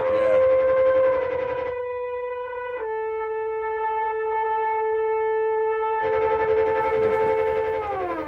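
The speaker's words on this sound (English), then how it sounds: "Oh, the sirens too, right?" Siren effect within a song: a sustained, steady wailing tone with rich harmonics, holding a long plateau before the backing music returns and the pitch slides slightly downward.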